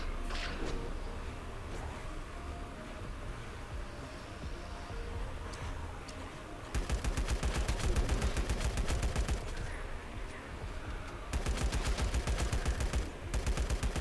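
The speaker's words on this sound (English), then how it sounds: "I'll keep shooting." Rapid gunfire from shooting in the LifeAfter survival game, arriving in two dense bursts of rattling automatic fire over a steady background of game ambience.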